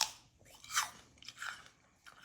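Someone biting into and chewing a crisp, firm apple, with a few soft, close crunches and moist chewing noises at a low level.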